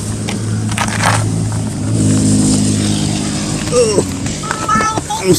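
Loud cars pass outside an open door, steady engine drone with low rumbling hum and a rising revving whine near the end, close and continuous throughout.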